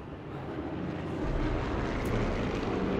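An airplane flies overhead in the video game Sniper Elite 4, a broad rumbling engine drone that swells gradually louder as it passes close by.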